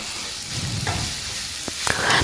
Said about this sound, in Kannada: ಇವಾಗ ರೈಸ್ನ ಹಾಕ್ಕೊಂಡು ನಾವು ಮಿಕ್ಸ್ ಮಾಡ್ಕೊಳ್ಳೋಣ